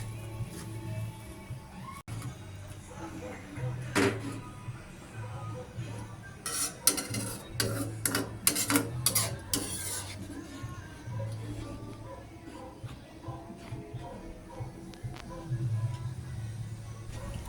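Corn soup stirred in a pot, with clinking and scraping of a spoon against metal in a quick cluster of taps, fairly close, under a woman's speech in Filipino.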